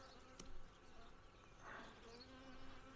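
Bees in a shipping package buzzing close by, a soft, low hum with a few brief louder swells as a cork is worked out of the candy end.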